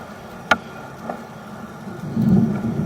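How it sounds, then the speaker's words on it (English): Thunder from an approaching thunderstorm rolls over an outdoor work site: a sharp distant crack early on, a softer second rumble, then a deeper swelling roll near the end, all over steady ambient noise. "I got a thunderstorm brewing on top of me"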